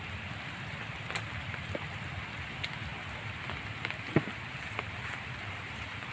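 Heavy rain pours steadily as a dense, even hiss close by, with scattered louder drips and taps standing out now and then.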